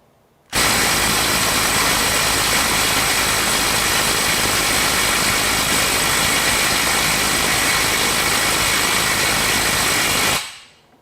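A DeWalt DCF901 XTREME 12V brushless 1/2-inch impact wrench hammers against a stubborn bolt, a loud, continuous, dense rattling burst lasting about ten seconds, close up, starting and stopping abruptly, no speech.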